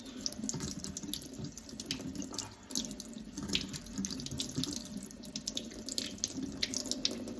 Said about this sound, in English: rinse that out some more. And this will probably be our final rinse.